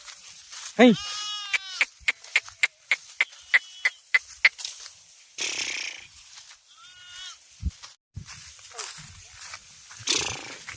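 Grazing sheep let out one loud, wavering bleat close by and later a fainter one, with sharp clicking sounds, rustling and someone talking in between.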